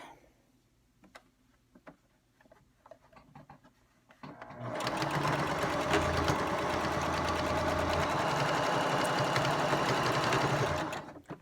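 Sewing machine stitching catnip pillows closed: after a few quiet clicks and handling noises, the motor starts and runs as a fast, steady, close whirring buzz for about seven seconds before stopping.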